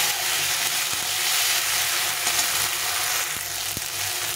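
Ground paste of ginger, cumin, green and dried chilli and coriander frying in a pan, a continuous bright sizzle with a few soft spoon taps, close and alone.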